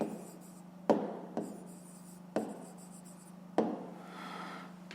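Pen on paper writing by hand, close and quiet, with four distinct taps of the pen landing roughly a second apart, each followed by soft scratchy strokes.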